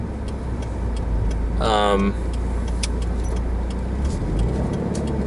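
A car accelerating hard on the road, with a steady engine and road drone running throughout and a brief voice cutting in near the start of the second second.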